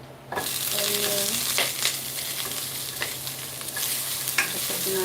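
Onion frying and sizzling in a pan with steady broadband crackle, stirred with a few utensil scrapes and knocks, close and continuous with no talk.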